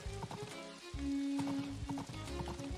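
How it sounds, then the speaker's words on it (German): Horses trot with soft, even clip-clop hoofbeats in the Story of Seasons video game, a faint, steady rhythm with a brief tonal game sound in the middle. "Ha, die Pferdchen sind so niedlich."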